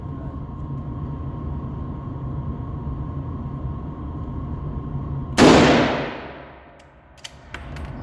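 A single loud rifle gunshot cracks out at close range after steady outdoor background noise, followed by a long decaying echo rolling away and a couple of faint clicks afterward.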